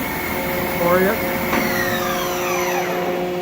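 Steady high whine of a Union BFT105 boring mill spindle running at 2,500 RPM, with tonal harmonics that sweep and shift partway through, a loud, continuous machine drone close by.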